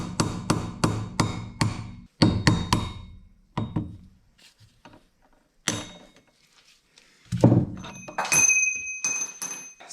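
A hammer taps a bearing out of a Saab Sonett part, starting with a quick run of sharp metallic knocks, then isolated strikes with pauses between them, and ending with some clinks and handling noise close by.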